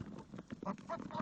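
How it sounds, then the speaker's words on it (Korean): Farm ducks, chickens and geese pecking at feed give a short burst of faint quacks and honks, several birds calling close together over little more than a second. "닭과 오리와 거위들은 조금이라도 더 먹기 위해 경쟁하듯이 사료를 쪼아댄다."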